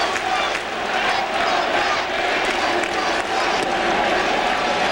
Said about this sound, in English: the Yankee fans in the crowd start their chant